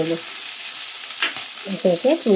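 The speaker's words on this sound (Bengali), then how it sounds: "আর দিয়ে দেবো সয়াবিন, একটু ভালো করে এটাকে আমি ভেজে নেব" Soybean chunks frying in hot oil in a pan, with a short stirring scrape and then several quick bright sizzling bursts close up near the end.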